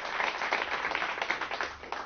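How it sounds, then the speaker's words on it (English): A studio audience applauds loudly in a dense, steady wash of many hands clapping, sustained for about two seconds with no voices over it. "they were told to applaud loud, even if not warranted"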